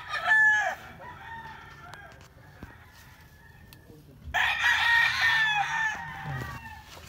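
A rooster crows loudly near the start at a game fowl farm, then a second long crow rings out later, with quiet background between.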